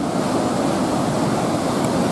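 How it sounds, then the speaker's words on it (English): Fast-flowing muddy river water after storms, seen from a wooden bridge: a dense, continuous rushing roar, loud and steady without breaks, with no voices over it. "A lot of fast water."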